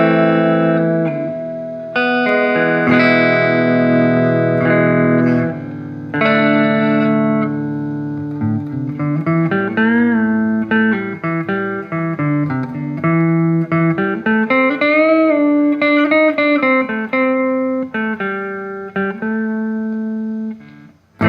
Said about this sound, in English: So here is the clean tone on the amp.